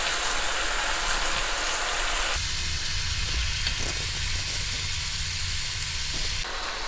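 Carne asada beef steak sizzling in a pan, a loud continuous hiss that shifts in tone partway through as the meat is handled, close and constant with no talking.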